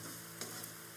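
Bamboo shoots frying with egg in a pan, a faint, even sizzle with one or two light stirring ticks, close by and quiet, with no voices.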